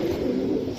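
A short, low, steady coo from a Giribaj pigeon at a pigeon sale, close and fairly loud, lasting under a second.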